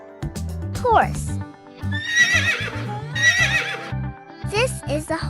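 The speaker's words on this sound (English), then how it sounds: "This is a horse." A horse whinnies and neighs loudly in a farm animal sound sequence, with a rising, wavering call repeated a few times over hoof-like knocking, fairly close and clear.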